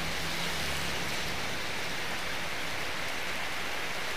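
Steady rain falls heavily and continuously outdoors while people shelter from it, a dense, even hiss of drops with no voices.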